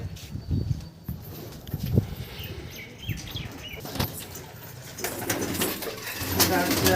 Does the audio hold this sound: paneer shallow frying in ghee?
no